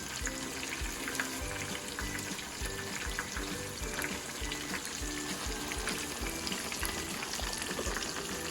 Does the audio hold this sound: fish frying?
yes